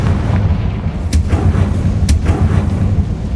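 Confringo blasting spell explosion in the Hogwarts Legacy video game, loud heavy rumbling blasts with two sharp cracking impacts about a second apart over a sustained low roar.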